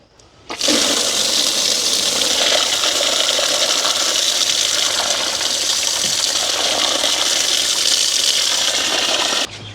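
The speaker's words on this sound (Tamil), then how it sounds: "இப்போ வந்து நாங்கள் பழங்களை கழுவி எடுப்போம்." Water gushes steadily from a tap as fruits and a peeled pineapple are washed at a village home, a loud continuous rush that starts abruptly and cuts off near the end.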